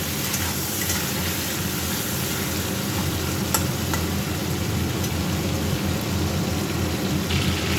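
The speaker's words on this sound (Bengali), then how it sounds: "তেলটা গরম হয়ে গেছে, চিংড়িগুলো আগে ভেজে নেব।" Shrimp frying in hot oil in a pan, a dense, even crackling sizzle that holds close and steady, with a few faint clicks over it.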